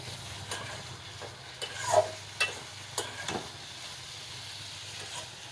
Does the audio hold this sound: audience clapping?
no